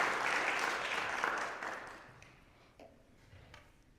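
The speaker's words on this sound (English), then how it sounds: "Let's give one more big round of applause to Paula." An audience applauds a presenter at a fall 2023 student talk showcase. The clapping starts loud and dense, then thins out and fades to a few scattered claps by the end.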